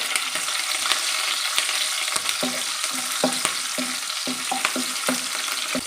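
Green chilli pieces and cumin seeds sauté in hot ghee with a constant bright sizzle, while a spatula scrapes and taps the pan in a loose, repeated rhythm; no voices.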